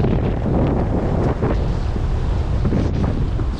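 Rushing river rapids at Dartmouth Rapids in Ohiopyle State Park on a chilly January day with ice and snow, a loud, steady roar of water heavily mixed with wind buffeting the microphone, no voices.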